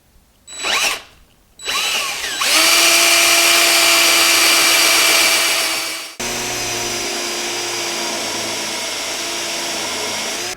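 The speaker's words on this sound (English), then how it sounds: "I'm not going to be able to drill all the way through because of the depth of my Forstner bit" A power drill with a Forstner bit whirs loudly as it bores into wood, starting with short bursts, then a sustained grinding run that steps down in pitch partway through.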